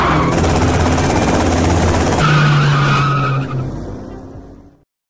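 A car in the video game GTA Vice City screeches off with loud skidding, squealing tires and a revving engine, then fades away over the last second.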